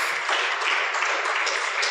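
Church congregation applauding during a sermon, with dense, steady clapping that holds fairly loud from start to finish.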